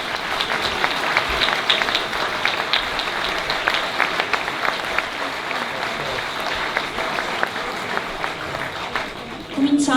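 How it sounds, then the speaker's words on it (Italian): An audience at an evening political event in Mogliano Veneto applauds, giving sustained, dense clapping that stays steady for the whole stretch with faint crowd murmur beneath. "Un applauso per tutti noi."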